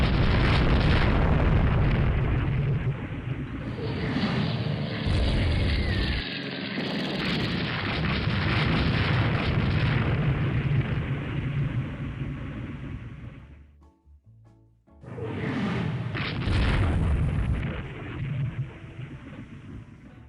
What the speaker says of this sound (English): The Missouri can keep working away with those 20-inch rifles at her opposite numbers.